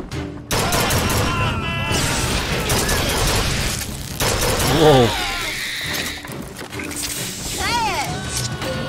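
Carbine fire and mechanical weapon clatter in the video game BioShock Infinite, with a burst of loud rapid shots, ratcheting metallic clicks and squealing effects. Someone talks over parts of it.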